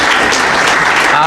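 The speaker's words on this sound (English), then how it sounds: "Can you give yourselves a round of applause?" Crowd at a hotel grand opening celebration in Prince George's County applauding, a loud, close, continuous wash of clapping with a voice faintly mixed in.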